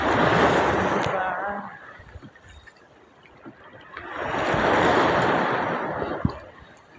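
Sea waves rolling in on a rough, windy monsoon day, two broad surging washes of surf that swell and fade, with a quieter lull between them.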